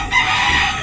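A loud, close rooster crow, one sustained bright call filling the short moment.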